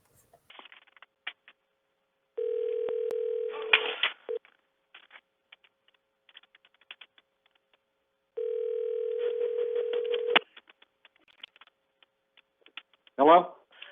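A steady telephone dial tone sounds twice, each lasting about two seconds, with faint clicks and rustling around it ahead of a recorded phone call to a county sheriff's office; a brief voice comes in at the very end.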